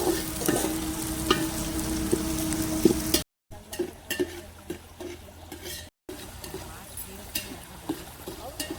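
Food being stirred in a pan over an outdoor fire at a family garden camp, with scraping and sizzling textures running steadily, briefly cut out twice, and a voice speaking over it.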